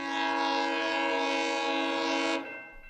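A GO commuter train horn blasts in one loud, steady chord of several tones for about two seconds, then cuts off sharply with no voices.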